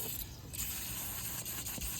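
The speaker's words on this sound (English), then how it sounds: "I just put the degreaser down and I'm spraying water in" Water sprays in a steady, continuous hiss onto car interior fabric that has just been treated with degreaser, fairly quiet and close, with no speech.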